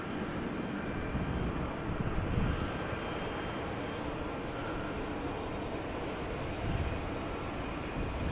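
Embraer E175 jet airliner on the runway at Salt Lake City airport, a steady broadband engine roar that stays loud and constant throughout, with no talk.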